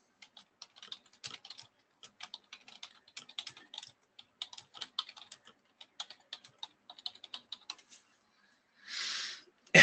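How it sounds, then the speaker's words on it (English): Rapid, irregular tapping on a computer keyboard sounds close and light for several seconds, followed by a short hiss and a sharp click at the end. "Let me type that out."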